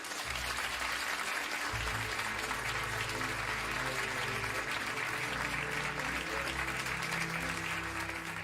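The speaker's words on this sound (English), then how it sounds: "Would you please give a huge round of applause for Nishi and William?" Studio audience at the Child Genius final applauds the last two finalists, a dense, loud, steady round of clapping lasting throughout, with a low tonal bed beneath.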